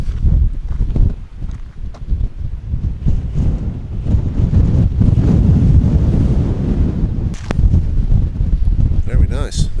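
Strong gusty wind buffeting the microphone by the sea on the Welsh coast, with a low roar of surf beneath and occasional knocks.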